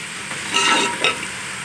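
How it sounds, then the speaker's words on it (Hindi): Garlic-ginger paste being stirred into onions frying in a pot for beef pulao, a constant loud sizzle swelling with two brief scraping stirs. "मैं इसमें ये सारा लहसुन अदरक मिक्स करूँगी"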